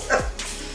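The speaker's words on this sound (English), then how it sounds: "Oh, get the dog off my table." A dog gives a single sharp bark with a downward whine, close and clear, over faint background noise.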